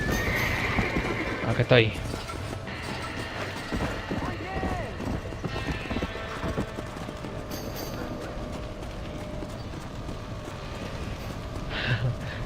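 A horse gallops out of a burning barn in the video game Red Dead Redemption. Steady clip-clop hoofbeats and loud whinnies come through, with game mechanisms clicking and someone talking over the top.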